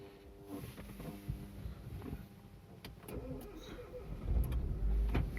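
A Renault Clio 4 engine cranks and turns over, settling into a low idle rumble near the end, with faint clicks and background noise throughout.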